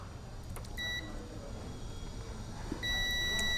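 A multimeter set to continuity gives short high electronic beeps while testing a shorted IGBT from a Kent KAG-01 induction cooktop under repair, heard as one brief beep and then a longer one, over a steady hum of background noise.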